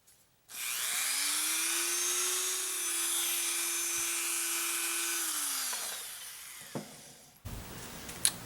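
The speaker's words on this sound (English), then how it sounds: "then we got to drill out these holes" Holes being drilled in a chainsaw handle during a repair: a power drill spins up with a steady whine for about five seconds, winds down, and is followed by a few light clicks and knocks.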